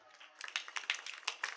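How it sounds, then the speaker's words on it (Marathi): An audience at a kirtan breaks into clapping after a brief lull, a quick ragged burst of many hands that carries on for about a second. "आणखी सिस्टीमसाठी टाळ्या वाजवा"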